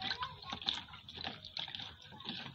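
Ginger and turmeric being washed by hand in a bowl of water, with steady sloshing and splashing continuing throughout, moderately quiet and close.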